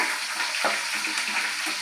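Curry leaves fry in a hot pan of oil with a steady, close, bright sizzle that keeps going evenly, with a brief crackling flare near the middle.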